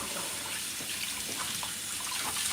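Water runs steadily from a tap into a pot while making salmon head soup, a continuous splashing rush heard up close with no talking.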